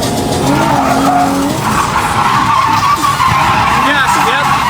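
An Infiniti G35 corners on a race track with tires skidding and squealing loudly, engine droning underneath, while people talk over the noise.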